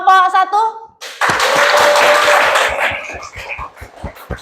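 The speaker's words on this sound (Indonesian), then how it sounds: "silakan tepuk tangan untuk kelompok 1" Classroom group of teachers gives a round of applause for the first presenting group, a dense burst of clapping that swells after a brief spoken lead-in, then thins into scattered claps under voices and chatter.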